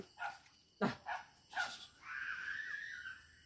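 A hunting dog of a breed used for wild boar and deer in Lai Chau province gives a few sharp barks close by, followed by a sustained higher whining tone, with no talking.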